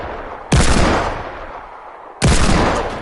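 Two loud, close Deagle pistol shots in Fortnite, each a sharp crack followed by a long fading tail, spaced nearly two seconds apart with no talk.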